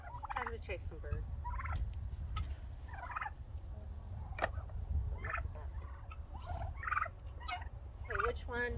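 Wild turkeys gobble repeatedly in bursts from several spots during a banding session, some near and some farther off, over a steady low rumble of background noise.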